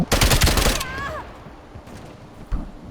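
A rapid burst of gunfire in Call of Duty: Black Ops Cold War, loud and close, stopping abruptly, followed by a brief whistling tone and a single later thud.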